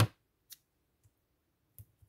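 Scissors snipping through craft foam for a Halloween card, a few short separate cuts spaced apart, close and fairly quiet with silence between.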